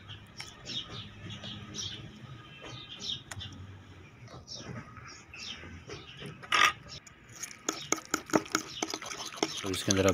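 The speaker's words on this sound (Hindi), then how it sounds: "तो इसके अंदर आप चटनी ये मिक्स कर लेंगे।" A spoon stirs green chutney into a mashed potato filling for aloo roll paratha, giving soft, irregular scraping and squelching close by, with a few sharper clicks and taps near the end.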